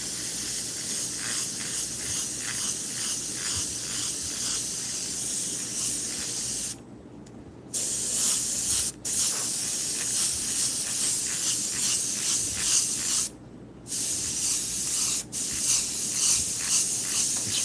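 Airbrush or spray gun applying paint at full 100% flow onto a Claybord panel for a rose painting, a steady loud hiss running continuously with two brief pauses and a couple of quick cutoffs.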